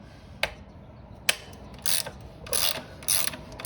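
A ratchet with a 17 mm socket loosens the rear axle bolt on a Talaria StingR electric dirt bike. Close, crisp clicking comes in several short bursts, with sharp single ticks first and then longer rapid runs.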